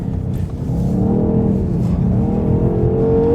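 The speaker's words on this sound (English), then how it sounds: "this exhaust, the engine sound here on the 850 is just amazing" A 2019 Rolls-Royce Cullinan drifting on a frozen lake gives a deep, continuous engine and exhaust drone that rises and swells as the revs climb, loud and close with no talk over it.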